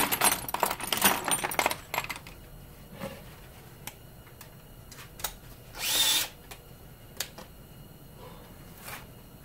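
Power drill backing screws out of a fan during teardown, with a few rapid bursts early on, then clicks and small metal rattles of loose screws, and one longer whirring burst midway.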